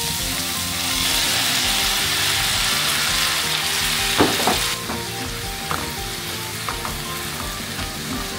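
Vegetables sizzle and fry steadily in a hot pan for the whole stretch, with a few sharper clatters of stirring around the middle and no voices.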